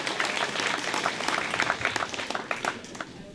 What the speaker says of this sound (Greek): Θέλω ένα χειροκρότημα